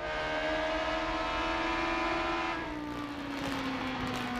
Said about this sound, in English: You can hear him going through the gears, trying to get the right selection to have the most torque